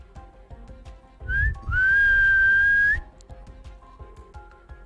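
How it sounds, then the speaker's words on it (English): A human whistle echoes up from below: a short rising chirp, then a longer, steady, rising tone lasting over a second, clear and fairly loud against a quiet background. "Those of you above hear a whistle echoing up."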